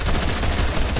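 SMG fire in a PlayStation 4 video game crackles in a rapid, unbroken automatic stream, loud and close, lasting about a second with no speech over it.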